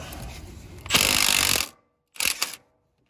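A stubby impact wrench works on the Pitman arm nut of a 1995 Ford F150's steering: a loud, close burst of hammering rattle about a second long, a pause, then a shorter second burst.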